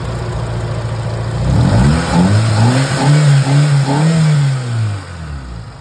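A Mitsubishi Lancer engine idles with the air conditioning on, then revs up and holds a steady higher drone before easing back down, loud and close.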